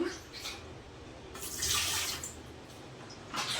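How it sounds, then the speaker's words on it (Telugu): Water pours and splashes into a container in uneven bursts, fairly close, with no talking. "వాటర్ పోసుకుందాము"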